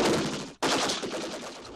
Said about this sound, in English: he's going to open fire with a machine gun